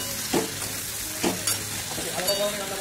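Cauliflower and spinach curry with white sesame stirred and sautéed in a pan: a steady sizzle broken by three or four distinct scraping stirs, close and moderately loud, with no talking.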